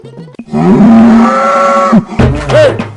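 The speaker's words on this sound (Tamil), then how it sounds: "அந்த எருமை தனியாங்கடா கத்துதுலடா" A buffalo bellows loudly and close by, a long drawn-out moan rising and holding, then a second shorter call that bends upward before fading.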